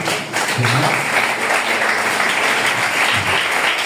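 Church congregation applauding to acclaim the Lord, a dense, steady wash of clapping filling the whole moment at close, loud level with no voices on top.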